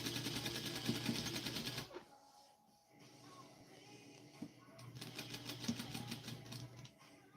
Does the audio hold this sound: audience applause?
no